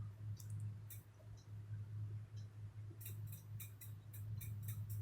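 Computer mouse clicks sound close and crisp, a few scattered single clicks early on and then a quicker run of clicks near the end, over a low steady hum.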